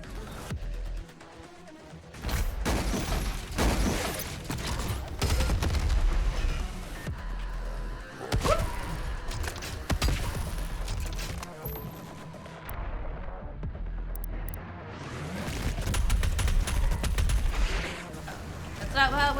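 Rapid gunfire and blasts from video-game weapons, including a super shotgun and rocket launchers, crackle and boom in dense volleys over a busy game soundtrack, with short quieter gaps between bursts.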